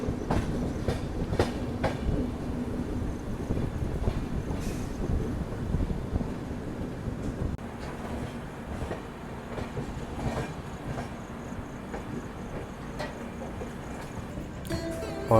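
The Magadh Express pulls into a station platform close by, its wagons producing a loud, continuous rumble and rhythmic wheel clatter, with wind buffeting the microphone.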